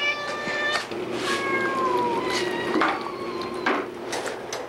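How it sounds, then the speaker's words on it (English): An older Siamese rescue cat yowls close by, drawn-out rising and falling cries that repeat several times over a low room hum, loud and insistent. "telling Coffee, who was a cat that was a little bit confused, that everything was all right because he would yowl all night"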